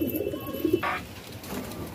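Soft, low pigeon cooing in short murmurs, fairly close, outdoors in Delhi, with outdoor background noise and a brief rustling burst midway.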